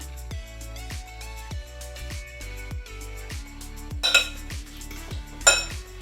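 Oat flakes are mixed into a batter in a bowl, and a utensil knocks the bowl in a steady rhythm of sharp clinks, with a couple of louder scrapes near the end.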